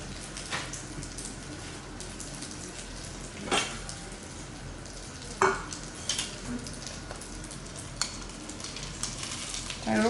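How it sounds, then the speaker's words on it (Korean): Buckwheat crepes (memil jeonbyeong) sizzle steadily as they fry crisp in an oiled pan, a continuous crackling hiss punctuated by occasional sharper pops and utensil clicks. "메밀전병 바삭하게 구워주시고요."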